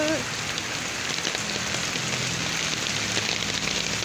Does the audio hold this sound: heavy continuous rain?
yes